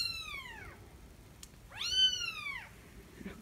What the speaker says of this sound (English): See, I want them to start crying.